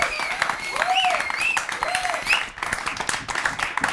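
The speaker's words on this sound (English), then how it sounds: "Ladies and gentlemen, round of applause, please, for Doreen and Ali" A studio audience claps in sustained applause, with whistles and cheers rising above the dense patter for several seconds.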